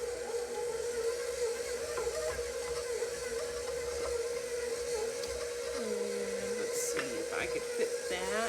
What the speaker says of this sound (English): I have my KitchenAid mixer fitted with a paddle attachment